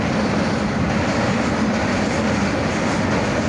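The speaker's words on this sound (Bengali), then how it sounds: "ট্রেন যাচ্ছে, দেখেন আপনারা।" A train crosses the Pakshi bridge near Kushtia at night, a continuous, loud, close roar of wheels and rattling carriages that holds steady and unbroken throughout.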